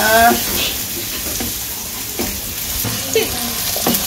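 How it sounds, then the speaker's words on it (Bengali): Onion and green chilli frying in a pan for a village-style egg curry, a loud, continuous close sizzle with occasional stirring scrapes and faint tonal bits in the background. "এই জায়গায় পেঁয়াজ কাঁচামরিচ ভাজা হয়ে গেছে"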